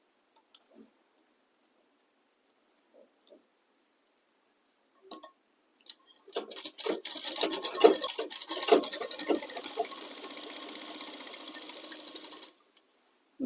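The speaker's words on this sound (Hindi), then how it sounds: "यहाँ पे डबल सिलाई करेंगे इस प्रकार से।" A sewing machine runs a double line of stitching on a ladies' garment, a quiet, fast mechanical whir lasting several seconds after a few faint clicks and handling sounds, then stopping.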